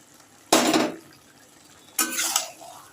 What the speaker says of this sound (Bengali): এবার আমি এই চিংড়ি মাছগুলোকে ঢেলে দেব।